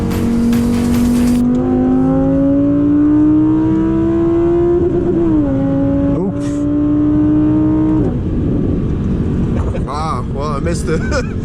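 An Audi R8 V10 RWS engine revs close and loud, pitch climbing steadily toward redline, then drops off with a burst of crackling exhaust pops at the end.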